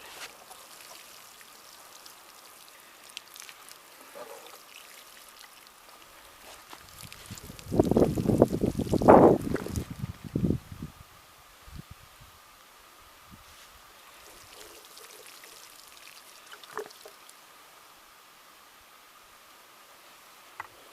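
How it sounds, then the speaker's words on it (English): Water pours from a watering can and splashes for a few seconds in the middle onto a freshly planted dahlia, then trickles off, with a quiet background hum before and after. "Now to water it in."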